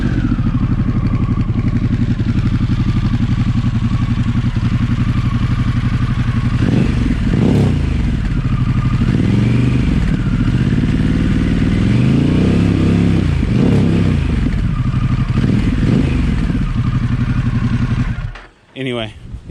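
A 2022 Harley-Davidson Pan America Special in neutral idles and revs, a loud continuous engine drone rising and falling through several throttle blips with some mechanical clatter, cutting off abruptly near the end.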